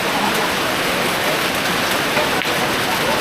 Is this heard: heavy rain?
yes